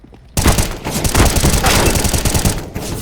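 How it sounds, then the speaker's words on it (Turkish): Rapid automatic gunfire in the video game CS:GO while shooting at enemies, a loud sustained burst of close shots starting abruptly after a quiet moment. "Şimdi iyi izle ben onları vuracağım"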